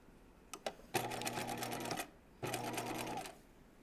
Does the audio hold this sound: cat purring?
no